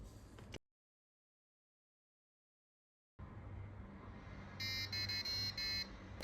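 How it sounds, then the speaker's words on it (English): A homemade Arduino alarm clock's buzzer goes off in a run of sharp, pulsed electronic beeps. The beeps ring out over a steady background hum after a brief silence. "And the alarm goes off."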